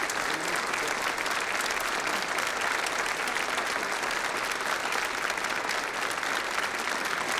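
Steady, energetic group applause fills a law-firm send-off scene in Better Call Saul, an even wall of clapping hands with a faint trace of voices underneath.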